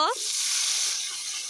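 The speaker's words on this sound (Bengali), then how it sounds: "আমি ওই করে এখন বেগুন ভেজে নিব" Eggplant fries in hot oil in a home kitchen, a close steady sizzle that starts abruptly after a brief voice and holds for over a second.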